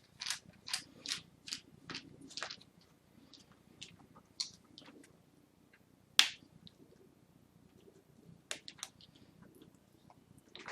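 Tiny screws are being removed from the display frame of a Dell Inspiron 15 3000 Series laptop. The sound is a quiet series of sharp, close clicks and ticks in irregular bursts, with one louder snap midway.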